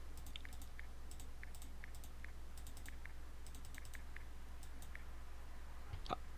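Soft, sparse keyboard taps from text being typed on a smartphone in a video-editing app, quiet and irregular over a low steady hum.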